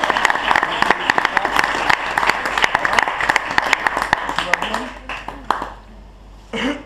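Audience at a stage hypnosis show breaks into applause for a volunteer, dense clapping for about five seconds and then fading into a quieter room with a few scattered claps near the end.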